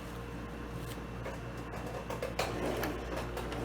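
A sewing machine stitches slowly around a fabric wrist strap, a faint, quiet run of small rapid clicks and mechanical patter that picks up slightly toward the end.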